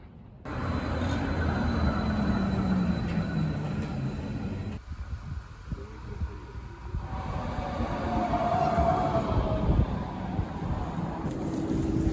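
A tram in Croydon rumbles along its tracks with a steady low roar and rattling, shifting in tone partway through, with faint high squeals and no voices.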